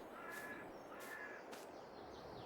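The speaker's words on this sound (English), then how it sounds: "There are birds chirping." Three faint, evenly spaced crow-like caws in a video game's outdoor environment, each brief and harsh over a soft, steady ambient wash.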